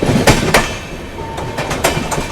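The Marathwada Sampark Kranti Express runs on its rails with a loud, steady rumble close by. Repeated clattering wheel beats come over the rail joints.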